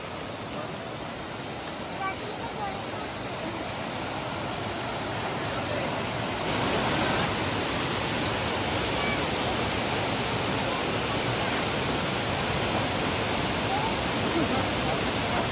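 A large volume of water pours and rushes steadily near a fishing spot, a dense continuous roar that swells slightly louder partway through and holds without pause.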